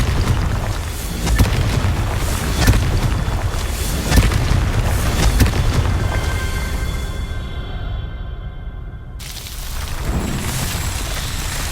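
Confringo spell in Hogwarts Legacy, a fiery blast spell in a fantasy video game, heard as a series of loud booming explosions and bursts over a dense rumbling game soundscape, with the noise briefly cutting out near the end.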